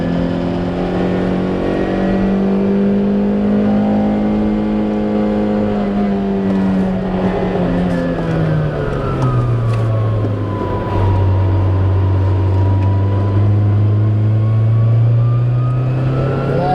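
A car engine pulls uphill in second gear on a road trip. It makes a loud, continuous close-up drone that drops in pitch partway through as the revs fall under load.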